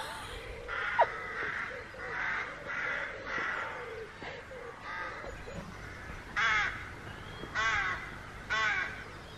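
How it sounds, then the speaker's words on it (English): Crows and rooks caw repeatedly in a run of loud, harsh calls, some overlapping, against quiet outdoor background in a park in Padstow, Cornwall. "I'm being video bombed by crows."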